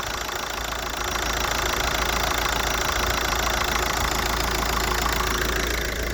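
A 2007 Volkswagen Golf V 1.9 TDI estate with its diesel engine idling, heard up close as a steady, loud rattling clatter under the open hood.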